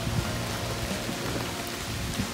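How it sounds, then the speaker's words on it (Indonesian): Steady rain falls on a tent at a motorcycle campsite, a dense, even patter that holds without a break and has no voices over it. "Hujan."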